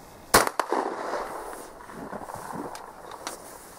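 A 12 gauge Optima shotgun fires a single target load outdoors, one sharp loud report at the start followed by a decaying echo and a few faint clicks or footsteps.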